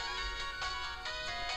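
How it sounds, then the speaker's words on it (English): A mobile phone ringing, a repeating electronic ringtone pulsing in short rhythmic bursts over a steady tonal bed, moderately quiet with no talking. "that's my phone ringing"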